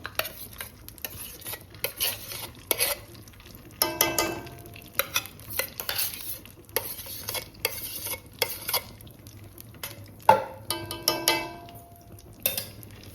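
Edible gum fries in homemade ghee for winter gund laddoos, giving a soft sizzle under frequent stirring scrapes and light clinks of a spoon against the pot. No one speaks.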